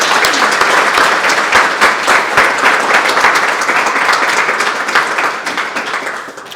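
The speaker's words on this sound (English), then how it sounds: "a round of applause for Courtney" An audience at a community awards ceremony breaks into steady applause, many hands clapping loudly and continuously, with a few sharper claps standing out as the sound slowly tapers toward the end.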